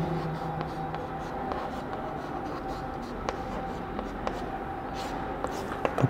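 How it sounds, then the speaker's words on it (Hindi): Pen or chalk writing out a definition during a Sanskrit lesson, faint scratchy strokes and light taps over a steady background hiss, with a voice speaking softly at times. "सबसे पहले इसकी परिभाषा लिखेंगे"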